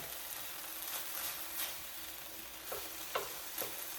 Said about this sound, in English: you can see that that ground pork is cooking already